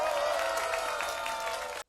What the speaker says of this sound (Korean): 기자분들한테도 박수 한번 해주세요.